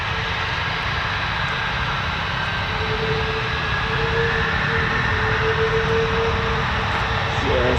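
Military fighter jets, F-22, F-15 and F-35, of the 48th Fighter Wing at an RAF airbase, roar continuously: a steady, broad engine rumble with a rising whine, heard from a distance without a break.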